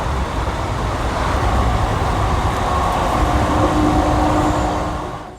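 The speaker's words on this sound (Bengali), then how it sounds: "তার আগেই ট্রেন যা গতিবেগ ধরেছে" Passenger train running at speed on the Kolkata to Haridwar route before its first halt at Naihati, a loud continuous rumbling roar of wheels and carriage noise that swells slightly and fades near the end.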